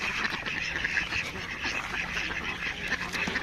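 Many ducks quack together in a steady, crowded din of overlapping nasal calls, close and continuous throughout.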